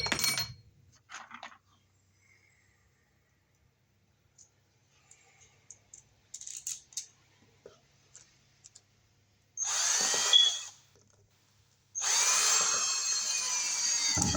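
A power drill drives a fastener to fix a cable clamp to a beam for surface MC cable wiring. A few scattered clicks and handling noises come first, then two short loud bursts of the drill spinning up close.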